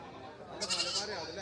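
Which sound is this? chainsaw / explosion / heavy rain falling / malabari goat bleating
malabari goat bleating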